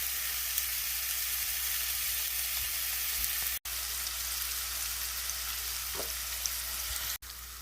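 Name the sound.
food sizzling after being put into the pot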